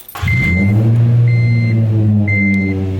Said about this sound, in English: cold start waking up my neighborhood